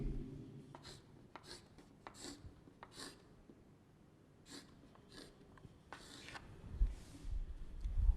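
Pen strokes scratch across paper while a chemistry diagram of carbon and hydrogen atoms is drawn out, coming in short separate bursts with gaps between them, close up and fairly quiet.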